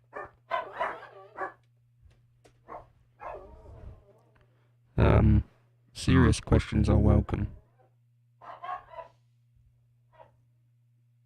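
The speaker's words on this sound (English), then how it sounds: "That's noisy dogs." Dogs bark in loud, clustered bursts that overlap and alternate with someone talking, over a constant low hum.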